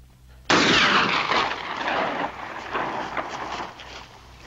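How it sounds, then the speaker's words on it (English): A sudden loud gunshot or blast in a western film cracks out after a quiet start, followed by a long echoing rumble that slowly decays. "The next shot's for that box of dynamite."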